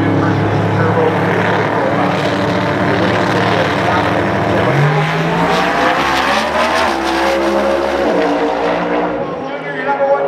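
Precision Turbo class drag racing cars roar loudly at close range, engines droning and shifting pitch midway through, with an announcer talking over the noise.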